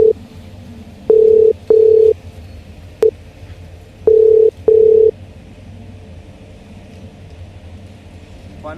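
An unanswered outgoing phone call being redialed: four loud, evenly spaced ringback tones, each lasting about half a second, sound close over a low rumble, with a short click between the pairs.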